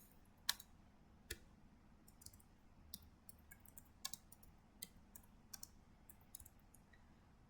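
Router commands being typed on a computer keyboard, scattered light key clicks and taps at an irregular pace, close and fairly quiet over a low background hum, with no talking.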